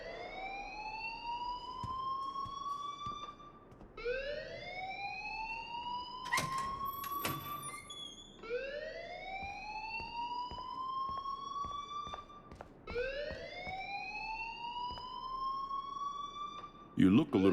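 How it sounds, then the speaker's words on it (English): An alarm in the video game Life Is Strange wails in repeated rising whoops, four long sweeping cycles broken by a burst of clatter, loud and continuous. "please turn off that alarm since that's your job"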